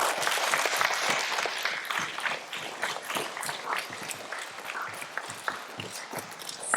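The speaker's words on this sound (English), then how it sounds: "Please give another round of applause to all of our Stage 2 award winners" An audience at a school's Stage 2 presentation applauds its award winners with brisk, dense clapping that runs throughout, loud at first and easing slightly toward the end.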